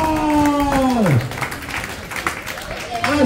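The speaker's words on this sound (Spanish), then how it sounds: "un fuerte aplauso para la participante número uno" Audience applause for a game contestant, a crowd clapping under an announcer's voice, with a rising-and-falling sung or spoken tone early on and brief bursts of clapping after.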